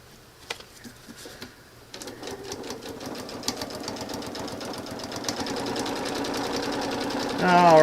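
A sewing machine stitching a quilt, starting in short bursts and then running in a steady, rapid mechanical patter that grows louder near the end, with a person talking over it.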